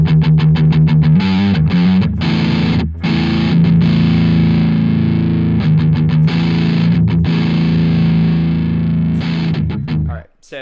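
Electric guitar with an overdriven, gain-heavy drive tone picking an arpeggiated chord, loud and continuous with short gaps as notes change, ringing out and cutting off at the end.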